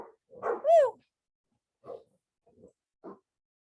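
A puppy playing indoors gives one sharp, high yelping bark followed by a few short, softer yips and grunts spaced out in an otherwise quiet room.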